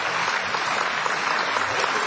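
Audience applause at a debate on evolution versus creation, a dense, steady wash of many hands clapping that holds evenly for about two seconds with no voices above it.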